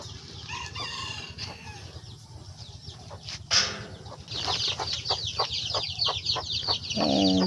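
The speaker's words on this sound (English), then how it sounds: "we have chicks there with their mama" Chickens on a poultry farm, a hen with her chicks clucking and a rooster crowing, close, repeated clucks and chirps in an uneven rhythm with some rustling.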